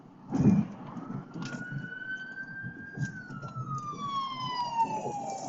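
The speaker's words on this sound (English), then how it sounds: "ambulance." An ambulance siren wails as it passes nearby, its pitch rising and then sliding down, with traffic rumble and a brief thump underneath.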